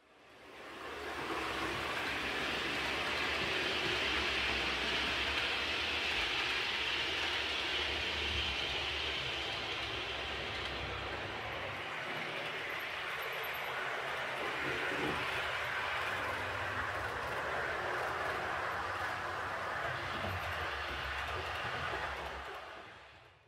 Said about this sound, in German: Gefahren werden die mit bis zu 5 Wagen zusammengestellten Züge mit der Mehrstromlok Baureihe 4000, auch bekannt als Trax-Lokomotive.